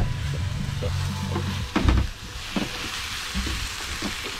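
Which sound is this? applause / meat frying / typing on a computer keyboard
meat frying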